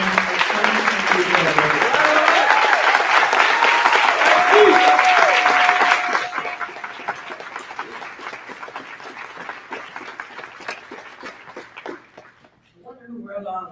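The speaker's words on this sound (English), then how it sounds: "let's give her a huge round of applause and congratulate Deputy Chief Tanya Smith" A luncheon crowd at a Women's History Month event claps loudly for Deputy Chief Tanya Smith for about six seconds. The applause then thins to scattered claps, and a voice begins speaking.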